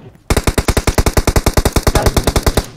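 Rapid automatic gunfire in PUBG Mobile, about twenty evenly spaced loud shots in a steady burst after a brief quiet start, close and dominant with no talk over it.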